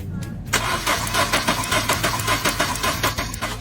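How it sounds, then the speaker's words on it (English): Car engine cranking repeatedly without catching, a steady rhythmic churn of the starter after a brief pause, close and loud, during a no-start fault check. "Now let the car owner help me start the car."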